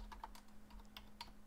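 Keystrokes on a computer keyboard entering a terminal command, a quick run of soft, close clicks at an uneven rhythm, alone over a faint steady hum.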